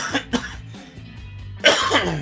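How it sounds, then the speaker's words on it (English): A few harsh coughs and throat clearing nearby, a pair of quick bursts first, then a pause and a louder rough cough. "Sorry for all the coughing."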